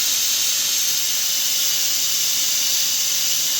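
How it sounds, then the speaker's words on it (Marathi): A pressure cooker of pav bhaji lets off a loud, steady hiss of escaping steam that holds unbroken throughout, with a faint thin whistle tone underneath and no voices. "सो आतां ऑलरेडी 3 कुकरा सिटी येयले"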